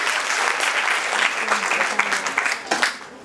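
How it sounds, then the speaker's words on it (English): College celebration audience clapping loudly in a hall, dense applause that gradually thins into scattered separate claps before fading out. "Girls, give a big round of applause."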